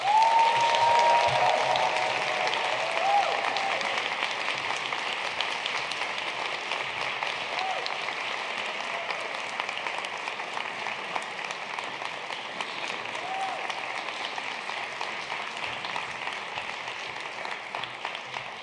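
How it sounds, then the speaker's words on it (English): Audience applause closing a conference performance, a steady and fairly faint wash of many clapping hands that carries on for the whole stretch without pause, fading only slightly toward the end. "Let's give another round of applause."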